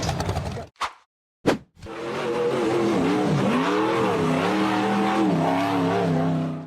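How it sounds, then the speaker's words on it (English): A blue and purple off-road buggy engine revving hard as it charges up a steep slope, loud and close, with two brief bursts before a sustained wavering roar that climbs and dips in pitch. "The blue and purple buggy charged up the steep slope"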